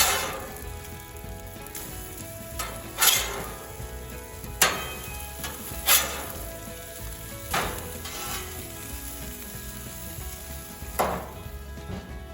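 Salmon sizzles steadily on a Monument Grill griddle after being flipped, a continuous close frying hiss broken by a few louder scraping clanks of a spatula.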